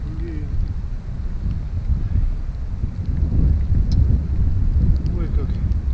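Heavy rain falls on Lake Yanisyarvi in bad weather during a trap-fishing outing, a dense steady hiss with wind rumbling on the microphone and no clear voices.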